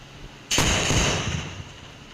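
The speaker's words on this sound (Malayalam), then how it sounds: "ഞാൻ ഇതിനെയും വെടിവെക്കും" Gunfire in a mobile video game, with one sharp loud burst that rings on and slowly fades, and no other shots around it.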